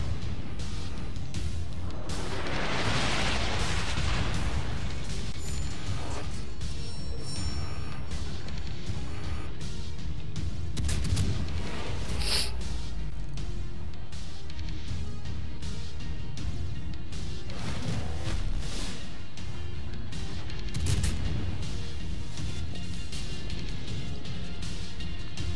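Warship gunfire and shell explosions from the World of Warships video game form a dense, loud, continuous roar, broken by sharper blasts now and then.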